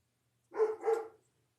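A dog barks twice in quick succession, a short double bark heard from a moderate distance against an otherwise quiet background.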